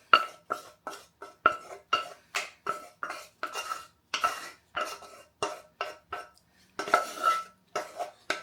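A spoon spreading tomato sauce over a pizza casserole in a dish, a long run of regular scraping and clinking strokes against the dish, close and even-paced, with no talk.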